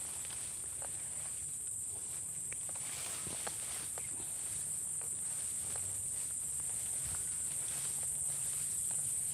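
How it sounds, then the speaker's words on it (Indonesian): Grasshoppers chirping in a plantation after rain, a steady high-pitched buzzing drone that continues throughout, with scattered faint ticks and rustles beneath it. "Dan semakin terdengar suara belalang teman-teman."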